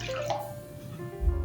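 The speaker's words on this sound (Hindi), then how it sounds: "आधा कप पानी और ऐड करेंगे।" Water is poured into a bowl of gram flour mixture: a brief wet splash and drip close by, lasting only a moment.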